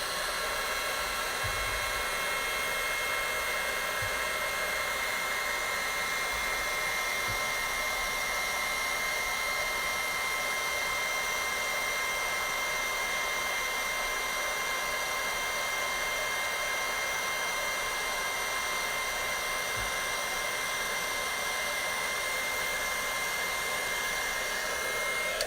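A heat tool heats gold embossing powder along card edges, producing a steady loud close whooshing blower hum that runs unbroken throughout, alone with no talk.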